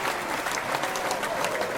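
Studio audience applause welcoming a guest, a dense, even patter of many hands clapping steadily for a couple of seconds with no voices over it.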